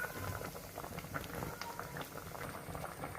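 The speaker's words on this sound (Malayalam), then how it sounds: "കറി ഇവിടെ നന്നായി തിളയ്ക്കുന്നുണ്ട്" Fish curry bubbles in a pot, a soft, close, continuous burbling of boiling liquid with small pops.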